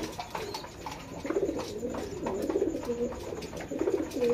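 Pigeons cooing in a breeding loft in Bangladesh, several soft overlapping coos repeating in irregular bursts at moderate distance, with faint rustling and background noise.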